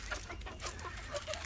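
A native hen clucks softly in short, scattered calls against a steady background hiss, fairly faint and with no voices.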